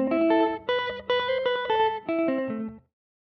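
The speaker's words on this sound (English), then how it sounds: "into this neat echoey guitar signal." Electric guitar played through a basic FIR echo delay effect, a run of picked notes each trailed by repeating echoes that blur into the next, moderately loud and alone, then cutting off to silence.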